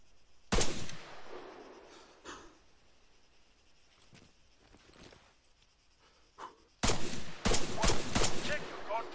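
Gunfire in the ARMA 3 military shooter: a few sharp shots ring out early, then a dense burst of rapid, loud cracks near the end, with quieter stretches of low background between.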